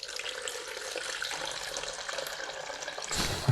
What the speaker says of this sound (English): I will pour out now the second soaking, so I didn't agitate this time, just soaked again for 30 seconds.